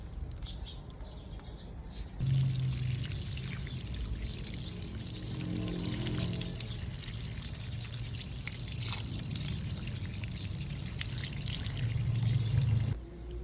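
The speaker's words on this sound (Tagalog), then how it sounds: "huhugasan naman natin tong mabuti sa running water" Running water pours steadily over Peperomia watermelon roots to rinse off clinging hard soil, a continuous trickle and splash close by that swells louder after a brief quieter start, with no voices.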